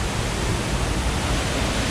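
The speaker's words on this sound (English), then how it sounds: "it's most popular during the warmer months when the waterfalls are flowing at their peak" Waterfalls at Watkins Glen State Park in Upstate New York pour in a steady, full roar, a dense unbroken rush of water with no voices above it.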